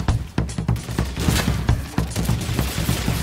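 Rapid gunfire in the video game Call of Duty: Infinite Warfare, a dense fusillade of sharp, loud shots fired in close succession, with some overlapping bursts and no talking.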